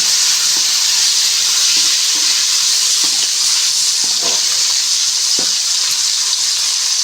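Chopped tomatoes hit hot oil in a pan for a spicy egg tomato pulao, giving a loud, continuous sizzling hiss broken by a few faint stirring clicks, with no speech.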